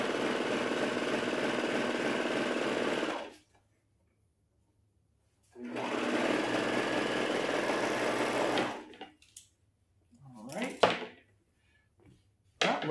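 Sewing machine stitching long straight seams on stretch knit T-shirt fabric, running in two steady bursts of about three seconds each with a pause between, then a few soft handling clicks and thumps.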